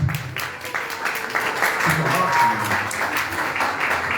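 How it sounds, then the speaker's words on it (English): An audience at a concert press conference reveal breaks into applause, a dense, fairly loud clapping sustained for a few seconds with voices mixed in. "a round of applause, ladies and gentlemen"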